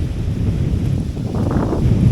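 Blustery wind buffets the microphone on a riverside walk along the River Wear, a steady low rumble that swells slightly toward the end, with no voices.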